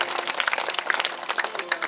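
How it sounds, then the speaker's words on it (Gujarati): Applause at a devotional gathering, a dense patter of many hands clapping at once, loud and sustained throughout. "પહેલા તો તાળીઓના ગગડાટથી આપણે બાબુભાઈને વધાવી લઈએ."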